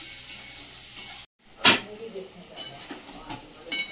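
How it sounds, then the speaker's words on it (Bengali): Potatoes being sautéed for aloo dum give a steady sizzle and stirring scrapes that cut off for a moment, then return with a sharp clatter and further scraping strokes close by. "এই দেখো আলুর দম তো এই যে কষানো হচ্ছে"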